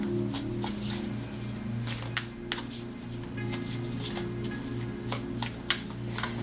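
A deck of oracle cards is shuffled by hand in a steady series of soft, crisp riffling flicks and slaps, close and fairly quiet over a low, constant background hum.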